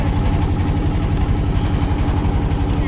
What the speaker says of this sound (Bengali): আমরা যেই ট্রলারটা করে নদীতে যাচ্ছিলাম